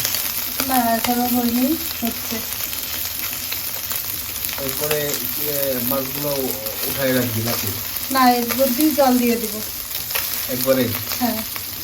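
Fish sizzle steadily in hot oil in a pan, a continuous loud fry under a voice talking nearby throughout.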